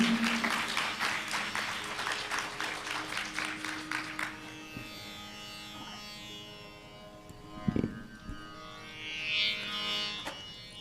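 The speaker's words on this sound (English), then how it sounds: "Please give them another round of applause, ladies and gentlemen." An audience applauds at a spiritual conference after a troupe's devotional musical performance, with steady dense clapping for about four seconds that then thins out into scattered claps and room noise.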